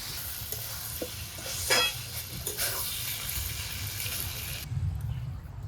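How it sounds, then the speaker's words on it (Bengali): Potato, cauliflower and peas stir-frying in a pan, a constant sizzle with spatula scrapes and clanks, close up, ending in a brief burst of hissing. "এখন কিছু সময় আরো নেড়ে চেড়ে ভাজা ভাজা করে নেবো"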